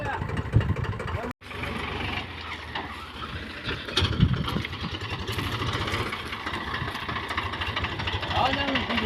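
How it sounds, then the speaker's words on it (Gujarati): A tractor engine loaded with manure idles and revs steadily as it reverses on a farm, with a brief cut near the start. People talk over the engine throughout. "તમે જોઈ શકો છો રાહુલભાઈ રિવર્સ ટ્રેક્ટર લે છે"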